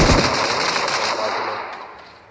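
Rapid automatic gunfire from an S12K shotgun and M249 in a battle royale video game, a loud burst of fire at the start that fades into a decaying rumble and reverberation.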